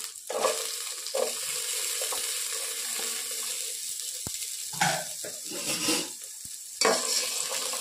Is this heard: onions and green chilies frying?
yes